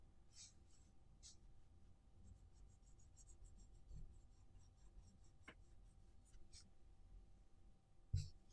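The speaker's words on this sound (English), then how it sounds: "So all of these shadows just shade with this brown pencil" A brown pencil shades a drawing with soft, steady scratching strokes, quiet and close, broken by a few brighter scrapes and one light tap near the end.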